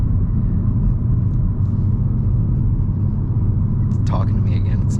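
Audi B9 S4 with an 034 Motorsport tune idling after startup, a steady moderate low engine rumble throughout, with a brief faint higher squeak or chirp near the end.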